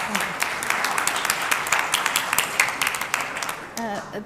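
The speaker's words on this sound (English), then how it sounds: "Let's give her another round of applause." An audience claps at a Buddhist summit talk, a dense patter of hands that holds steady and then thins out, with a voice starting to speak near the end.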